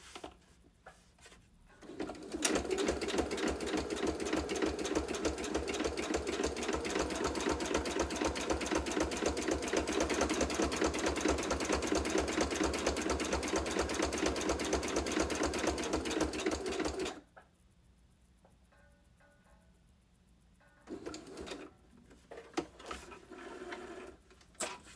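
A home sewing machine with a misbehaving bobbin, a rapid steady stitching run of about fifteen seconds, then quiet with a few short bursts and soft bird cooing nearby.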